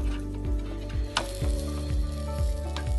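Tandoori chicken coated in butter sizzles loudly and close, a continuous crackling hiss with a low rhythmic pulse underneath and no talking.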